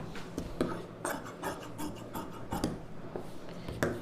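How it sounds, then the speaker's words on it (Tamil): Scissors cut through blouse lining fabric in a series of soft, crisp snips and rasping slides, spaced about every half second and heard close with no speech. "இதை அப்படியே கட் பண்ணி எடுத்துக்கலாம்."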